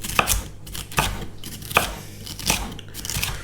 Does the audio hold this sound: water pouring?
no